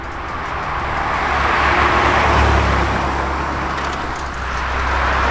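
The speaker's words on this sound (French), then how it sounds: "il y a constamment des voitures qui passent ici." Steady road noise with cars, including a BMW M5 CS, rolling past at the Nürburgring, a broad engine and tire rumble that swells in the middle and again toward the end, with no voices.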